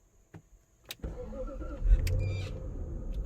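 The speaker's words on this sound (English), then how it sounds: "That's the good old air suspension that works." Air suspension on a Range Rover Vogue with a V8 engine, heard from inside the car as a steady mechanical hum and hiss rising after a few soft clicks, moderately loud and close.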